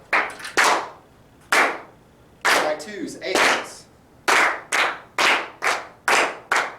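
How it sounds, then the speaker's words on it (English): A music class claps together in rhythm while practising eighth and sixteenth notes, with sharp, close hand claps in short bursts and evenly spaced strokes, and an instructor's voice cutting in between the bursts. "Everybody clap together."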